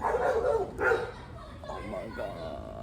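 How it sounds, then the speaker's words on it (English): A pet dog barks in short bursts indoors, fairly faint and partly masked, while a person exclaims over it. "Oh my god, I think that's my dog."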